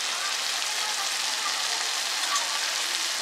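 Salt and turmeric being stirred into a hot pan for kanda poha, a steady close sizzle with a dense, even hiss and no pauses.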